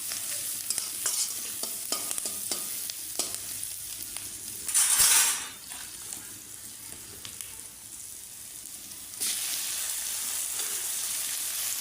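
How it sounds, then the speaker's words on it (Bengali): A pan on a clay stove fries with turmeric, salt and chili, giving a steady crackling sizzle with repeated ladle scrapes and a brief louder hiss midway, close and without talk. "আমি হলুদ, লবণ, লঙ্কা সব কিছু একসঙ্গে দিয়ে দিচ্ছি, পুরো ভাজা ভাজা করবো।"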